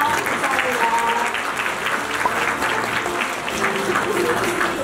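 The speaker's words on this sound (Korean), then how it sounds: "큰 박수 부탁드립니다" A large audience claps loudly and continuously, forming a thick, even roar of applause, with voices audible under the clapping throughout.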